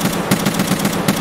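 Rapid automatic gunfire in Escape from Tarkov, a fast, even burst of about eight sharp shots in just over a second, loud and close with no talk.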